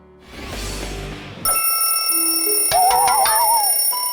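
A cartoon telephone rings loudly and alone with a bright, sustained electronic tone after a brief burst of noise, then carries on with wavering chirps.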